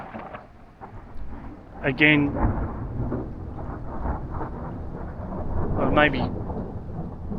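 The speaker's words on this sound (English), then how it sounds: "this is cloud to cloud thunder or rolling thunder." Rolling cloud-to-cloud thunder rumbles through a thunderstorm, a long low continuous roar with rain in the background, while someone talks over it.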